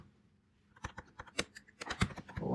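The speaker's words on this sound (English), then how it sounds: "I'm just going to try typing something here." Keys click on a computer keyboard as someone types in a programming editor, a quick irregular run of crisp taps that starts after a quiet moment and grows busier toward the end, with no voices.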